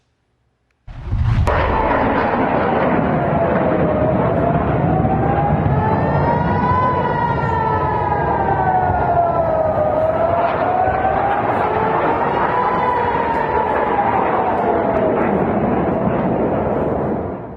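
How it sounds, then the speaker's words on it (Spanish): Air raid sirens sounding in Israel after Iranian missile launches, a loud wailing tone that rises and falls slowly and steadily, starting abruptly and continuing throughout over a rough background roar. "escuchamos las sirenas que sonaron en Israel tras estos misiles de Irán."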